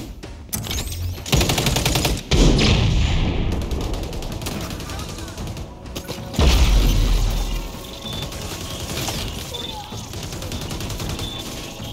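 Rapid bursts of gunfire in a first-person shooter video game crackle loudly and repeatedly throughout, with heavy, booming volleys that swell around the middle, while players talk over the shots.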